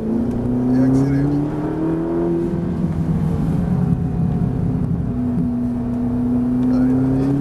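A Ferrari 458 engine drones with a steady harmonic tone that rises slightly and then holds under load, close and loud, while a voice talks over it.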